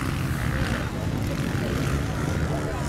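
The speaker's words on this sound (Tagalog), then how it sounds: "Lumilipad ang mga motor dito sa Libuna, Bukidnon guys." Pro Open motocross motorcycles race at a track in Libona, Bukidnon, with a dense, continuous engine roar that drowns everything at close range and holds steady throughout.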